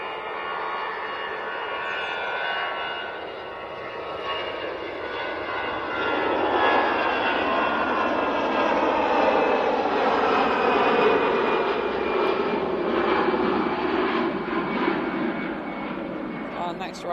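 EasyJet airliner taking off at an airport, a steady loud jet engine roar that swells and slowly shifts in pitch as the aircraft builds power and departs.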